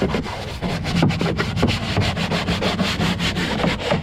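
A brush scrubs old stains off a Hobie kayak hull in quick, rhythmic back-and-forth strokes, close and fairly loud, with no voices.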